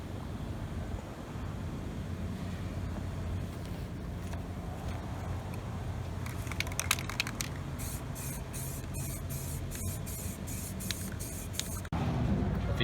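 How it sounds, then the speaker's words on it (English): Spray primer hisses from an aerosol can onto wheels in a long steady stream, later broken into short bursts, fairly quiet under background room noise. "So we'll prime this last one real quick, let them sit for a couple minutes, maybe hit them with another coat of primer"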